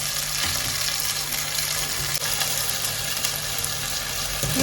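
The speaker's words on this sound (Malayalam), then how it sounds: "ഈ മസാല ഒന്ന് ഇളകാൻ ഒന്ന് വഴറ്റാൻ മതി കേട്ടോ" Masala of onion and garlic sautéing in a pan for a chana dal curry, a dense steady sizzle with faint stirring scrapes, close and continuous without a break.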